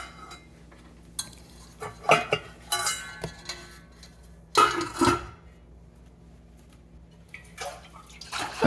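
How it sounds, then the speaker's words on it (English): Iodophor sanitizer solution sloshing inside a glass flask during a few separate shakes, bright splashy bursts with glassy clinks, close and fairly loud between quiet pauses. "Shake it around a couple of times and let it sit."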